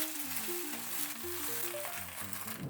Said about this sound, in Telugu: అదే కడాయిలో అదే నూనెలో రెండు గట్టలు గోంగూర తీసుకుని శుభ్రంగా కడుక్కుని పక్కన పెట్టుకున్న గోంగూరని అదే ఆయిల్లో వేసుకుని